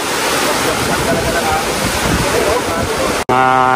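Strong, steady wind roaring across the microphone with a broad rushing noise, cutting off abruptly near the end before a brief tonal sound.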